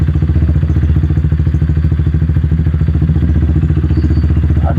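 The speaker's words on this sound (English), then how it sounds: "I'm just letting off the clutch and the bike wants to go forward" A motorcycle engine runs at a low, steady, rhythmic chug as the clutch is eased out without throttle and the bike creeps forward. The sound is loud and close, with a regular pulsing beat throughout and no speech.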